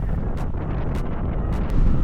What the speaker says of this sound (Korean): 센 바람에 말을 잇지 못하는데요.